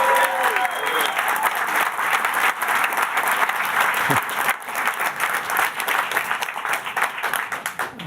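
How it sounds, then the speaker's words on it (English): An audience at Microsoft's October 2019 Surface product launch claps loudly in a dense, close burst that thins into scattered claps toward the end, with faint voices underneath. "I didn't really think you'd clap for that."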